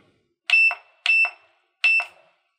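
A clamp meter being switched to capacitance mode gives three sharp electronic beeps, evenly spaced and close, each with a brief double pulse, in an otherwise silent room.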